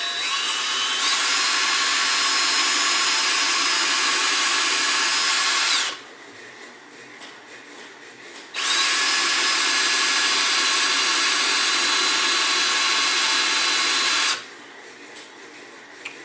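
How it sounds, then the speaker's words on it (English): A small bit drills holes through a plastic container, running in two loud bursts of high whine of about six seconds each, separated by a short pause where the drill stops. "drill 2 holes directly across from each other"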